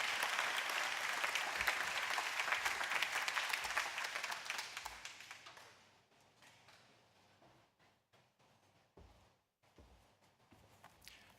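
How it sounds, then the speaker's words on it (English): Lively applause rises from an audience at a campus ribbon-cutting ceremony, dense for about six seconds before thinning out into scattered claps and a few footsteps. "Can we get a round of applause for Mark Smalzik?"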